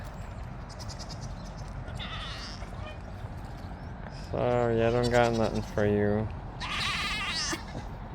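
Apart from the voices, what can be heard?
sheep bleating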